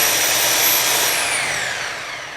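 Maxis 3K/6K cable puller capstan wrapped with two turns of rope, running with a steady loud motor whine and broadband whir that slowly drops in pitch and fades slightly, no voices.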